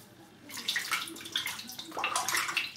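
Water from a tap runs onto a 26mm synthetic shaving brush, a close, steady splashing and gurgling with irregular surges as the knot soaks, no talking.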